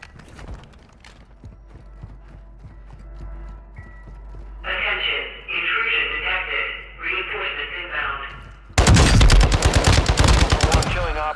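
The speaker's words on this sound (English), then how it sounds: "Taking effective fire!" Call of Duty DMZ firefight in Building 21, with scattered shots, bursts of automatic gunfire in the middle, and a loud sustained barrage of close rifle fire at the end, over faint radio chatter and voices.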